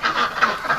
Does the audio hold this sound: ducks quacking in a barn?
yes